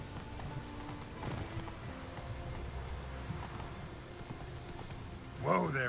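Geralt's horse Roach trots in The Witcher 3 video game, a steady clip-clop of hooves under a constant patter of rain, with a brief voice near the end.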